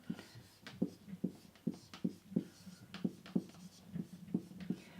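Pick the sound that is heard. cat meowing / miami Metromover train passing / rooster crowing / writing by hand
writing by hand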